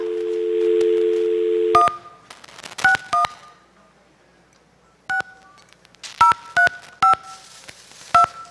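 Telephone dialing tones: a steady dial tone gives way to a series of sharp, separate DTMF beeps in an irregular rhythm, clear and close with quiet gaps between keypresses.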